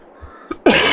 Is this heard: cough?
yes